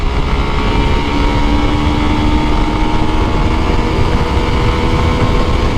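A Yamaha FZS Version 2 motorcycle runs hard in third gear during a top-speed run, giving a loud, dense engine roar mixed with wind rush. The sound holds steady and close throughout.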